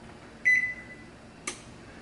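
A microwave oven gives one clear, fairly loud electronic beep of about half a second as its timer is set during hurricane preparations, followed a moment later by a short, sharp click.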